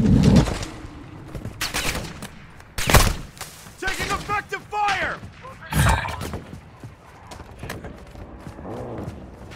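Gunfire in the shooter game Call of Duty: Warzone 2.0, with several loud sharp bursts and scattered shots in a busy battle mix, overlaid with radio-style callouts.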